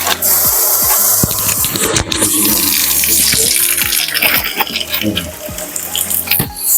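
Water rushes and splashes steadily up through a damaged, leaking pipe despite a closed gate valve, a loud continuous gush with scattered knocks and clatter close by.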